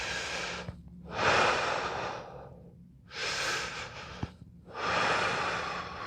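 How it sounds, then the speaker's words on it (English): A person breathes during an upper back exercise, with several slow, audible breaths close to the mic, long airy inhales rising and falling in a steady rhythm. "So I'm inhaling as I lift."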